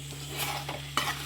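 A spoon scrapes and stirs country chicken fry in a hot pan, short scraping strokes over a steady oily sizzle, close and fairly loud with no voices.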